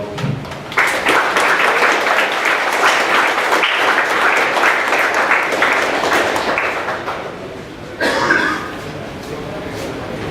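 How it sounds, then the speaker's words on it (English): An audience at an MPG end-of-season wrap-up gives volunteers a long round of applause, a full, steady roar of many hands lasting several seconds before tapering, then a brief swell, with voices and chuckles mixed in. "So another big, huge round of applause to all those other volunteers"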